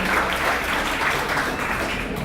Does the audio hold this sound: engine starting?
no